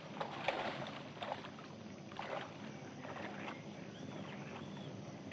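Small boat handled on a river, with quiet splashes and knocks on the water near the start, then a soft continuous wash of moving water and outdoor ambience, faint and fairly distant.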